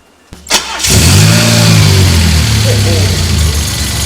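A DeLorean DMC-12 with a 2.85-litre V6 rated at 140 horsepower cranks briefly, fires and settles into a loud, close, rumbling idle, heard alone.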